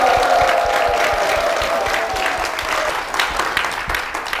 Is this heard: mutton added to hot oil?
no